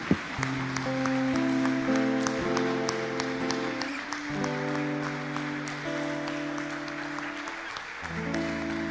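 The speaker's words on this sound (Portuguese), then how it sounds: "Salva de palmas para Jesus Cristo." A church congregation at a Bible study service applauds for Jesus Christ. Scattered clapping runs beneath sustained keyboard or organ chords, moderately distant and steady throughout.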